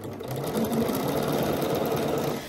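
A sewing machine hums steadily at close range, stitching along the seam of a pair of pants in one continuous run.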